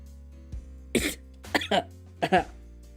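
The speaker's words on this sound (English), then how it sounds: "Goddamn cough." Several harsh coughs from one person, sharp and close, come in a quick uneven series with short pauses between bursts.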